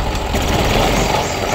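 A Gulf car engine runs after being started, giving a continuous, loud, close-up idling rumble that stays even throughout.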